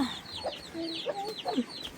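A mother hen clucks softly among her chicks on a Nepali farm, her low clucks mixed with a scatter of thin, high chick peeps, fairly close and not loud.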